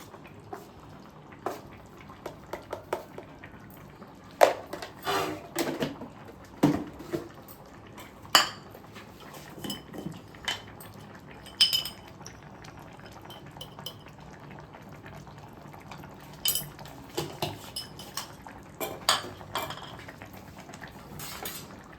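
A spoon scrapes and knocks against a pot of Ongole style fish curry, giving irregular metallic clinks and scrapes in scattered bursts over a quiet background.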